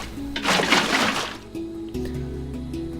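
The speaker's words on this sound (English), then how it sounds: "Fill this in with water." Water placed in the Minecraft video game makes a brief splashing, gurgling burst followed by a softer liquid flow, quiet with low background tones.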